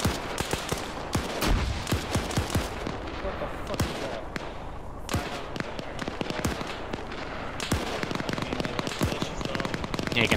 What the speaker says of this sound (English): Now you're seeing the plane doing some airstrikes here.